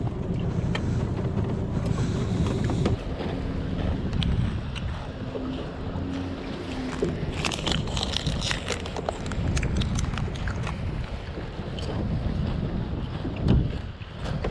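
Wind gusting over a small fishing boat out at sea off Gunsan in spring, a steady low roar and rumble of wind noise with faint water and boat sounds close by, occasional murmured voices.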